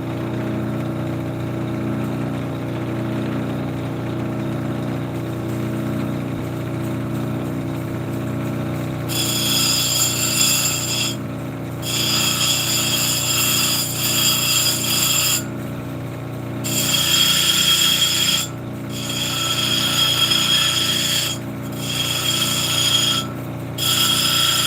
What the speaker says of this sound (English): The 100 grit diamond wheel.